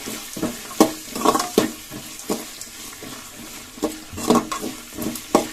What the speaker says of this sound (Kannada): ಮೀಡಿಯಂ ಫ್ಲೇಮಲ್ಲಿ ಫ್ರೈ ಮಾಡ್ಕೋತಾ ಇದ್ದೀನಿ